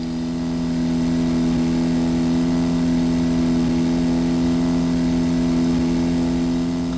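A bush plane engine at full throttle in X-Plane 10, a loud, steady droning hum with strong even tones, holding constant through the takeoff roll with no talk.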